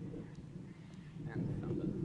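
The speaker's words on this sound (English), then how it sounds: "And thunder." Low thunder rumbles in the distance, swelling louder toward the end amid windy outdoor noise in the Australian bush under ominous clouds.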